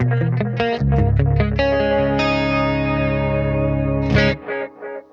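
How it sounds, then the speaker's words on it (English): Electric guitar played through a tape echo effect on a Beam Mini amp, sustained distorted chords with shimmering repeats that ring out and then trail off into a few decaying echoes. "Let's do the tape echo."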